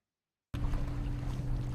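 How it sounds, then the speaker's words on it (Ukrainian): A military patrol boat of the Mariupol maritime guard ferries border guards to a lighthouse; after a brief silence, a loud steady low engine drone with rushing water and wind noise cuts in and holds. "Військовий катер Маріупольської морської охорони доправляє прикордонників на маяк."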